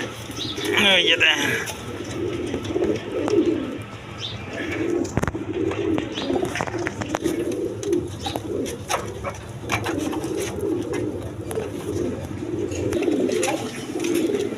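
A pair of high-flying Giribaz pigeons at a pigeon seller's coos softly and repeatedly, with other bird chirps around and someone talking over the cooing.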